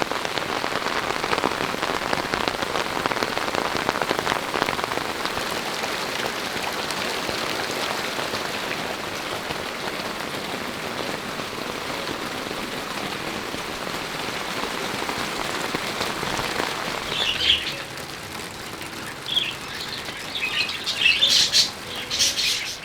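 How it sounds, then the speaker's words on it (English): Steady rain pattering on surfaces in a dense, even hiss around a budgie aviary, with birds chirping and wings fluttering toward the end. "And suddenly it started to rain."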